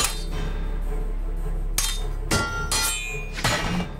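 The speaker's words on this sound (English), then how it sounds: "There's the clank of the metal on metal" Swords clanking metal on metal in a battle scene, with several sharp bright clanks ringing out over a steady low rumble.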